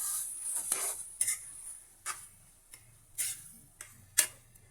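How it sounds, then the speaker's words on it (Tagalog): Softened mung beans going into a pan with a faint sizzle, while a utensil scrapes and taps against the pan in a string of sharp clicks. "Lalagay na natin yung ating pinalambot na munggo."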